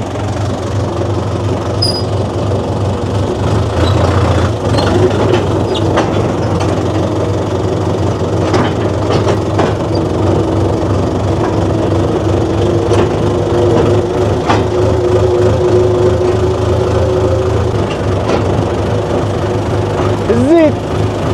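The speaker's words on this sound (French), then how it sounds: "moi je vais surtout conduire le tracteur" Tractor engine running steadily on a farm, a low continuous rumble throughout with faint background voices.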